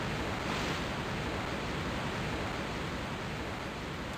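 Steady, dense rush of falling water from a waterfall in Tomb Raider I Remastered, continuous and loud with no variation over the few seconds, heard alone without talk.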